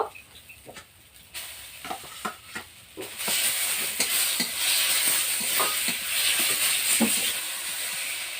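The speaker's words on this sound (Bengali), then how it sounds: "মশলার সঙ্গে চিচিঙ্গাটা বেশ ভালো করে মিশিয়ে নিয়েছি।" Snake gourd stirred with spices in a hot pan, a series of scraping stirs at first, then a continuous loud sizzle and hiss of frying, still broken by occasional scrapes of the spoon.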